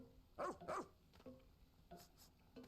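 Pet pup in the video game Pikmin 4 yipping in a few short, fairly close barks, two quick ones at first and then softer scattered ones, over quiet game ambience.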